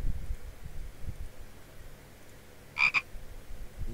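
A frog in an Italian adventure game gives a short, close double croak, two quick raspy bursts over a faint rustling background.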